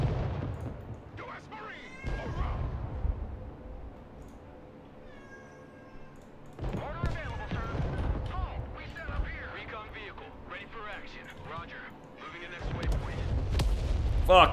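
Artillery fire in the video game Broken Arrow lands as low, rumbling booms in a few separate bursts, with a real cat meowing loudly and repeatedly in the foreground.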